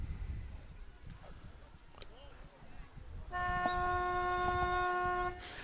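A foghorn blasts at an outdoor high school softball game against Mansfield, a loud sustained tonal honk lasting about two seconds near the end, rising over crowd murmur and ambient field noise.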